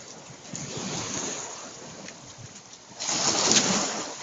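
Sea surf washes against a rocky shoreline near a seaside restaurant east of Ciudad del Carmen, Mexico, a steady close roar with heavy wind buffeting the microphone and a louder surge toward the end.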